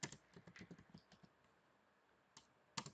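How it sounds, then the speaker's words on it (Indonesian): Computer keyboard keys typed in a quick burst of clicks, a pause, then two more isolated keystrokes, close and clear in a quiet room. "Dengan mengetik perintah select"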